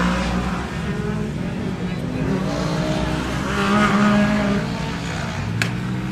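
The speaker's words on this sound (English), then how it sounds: "There goes our loud car" A loud race car roars past at the TexPlex track in Texas, a sustained engine growl that swells and fades over about six seconds, with an announcer's voice talking over it.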